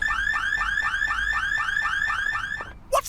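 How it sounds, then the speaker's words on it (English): A car alarm in an adventure video game wails in a steady, repeating electronic cycle of rising chirps, loud and close, then cuts off abruptly before a brief voice. "the car alarm's not in the habit of going off by itself"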